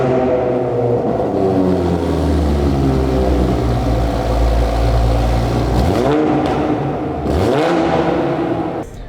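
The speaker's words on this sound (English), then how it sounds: "This is the resonated AWE exhaust." A Mk5 Toyota Supra's resonated AWE exhaust drones at a steady idle, then two sharp revs rise and fall near the end, loud and close.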